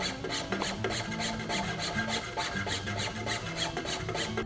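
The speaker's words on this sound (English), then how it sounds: "Start by filing a flat on each side of the comb till you reach the proper angle." Steady rhythmic rasping of a file working flats on the comb of a wooden rifle stock for a Model 67, close and continuous with regular back-and-forth strokes and no talking.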